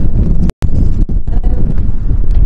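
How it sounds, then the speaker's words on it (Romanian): Strong wind buffets the microphone outdoors in Bratislava, Slovakia, a loud continuous low roar with gusty swells and a brief dropout. "vă bate vântul."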